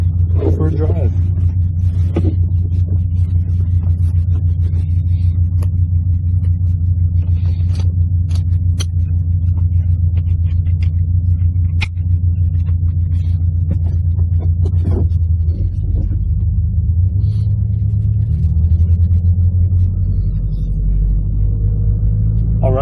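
Subaru BRZ, built toward 400 WHP, cruising with a steady low engine rumble throughout, the tone shifting as it changes speed near the end, and a person talks over it inside the cabin.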